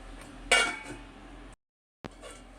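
A metal lid clanks down onto a pot of stirred amla (gooseberry) candy mixture: one sharp, ringing clatter up close, a fading rattle, then a brief silence before faint kitchen background returns.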